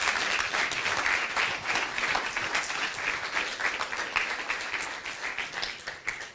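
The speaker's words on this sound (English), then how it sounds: "a round of applause I think is well due" A steady wash of audience applause fills the room at a talk or meeting, many hands clapping densely and continuously, moderately loud, then tapering at the end, with no speech.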